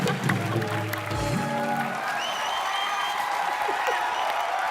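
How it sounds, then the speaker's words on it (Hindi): Studio audience applause at an entertainment talk show, a steady dense wash of clapping throughout with some low crowd murmur underneath, loud and continuous. "जोरदार तालियां हो जाए, जोरदार तालियां।"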